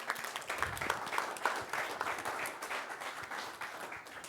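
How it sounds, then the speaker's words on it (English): Audience applause fills a conference hall at the BSidesLV 2016 security conference, a dense, steady wash of many hands clapping at close range, holding at an even level throughout with no talk over it. "So I'm going to ask you again to give a round of applause."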